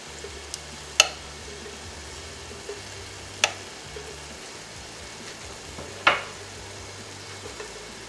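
Four tablespoons of ghee heat in a hot pot for Kerala-style Mughal chicken biryani, giving a faint, steady low sizzle broken by a few sharp clinks and taps, with no talking.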